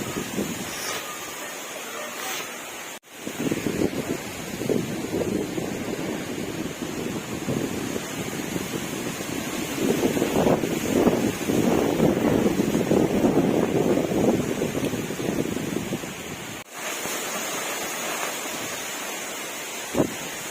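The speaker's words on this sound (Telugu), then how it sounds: "గాలి అయితే గట్టిగా వేస్తున్నాయి" Strong, steady cyclone wind roars through trees and buffets the microphone for most of the clip, swelling louder in the middle, with brief drops where it cuts out.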